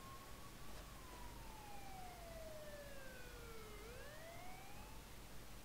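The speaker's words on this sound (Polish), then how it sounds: "Jedzie policja." Police siren in the video game GTA San Andreas, a single wailing tone sweeping slowly down then rising again, steady and moderately loud over a constant background hiss, with no talk.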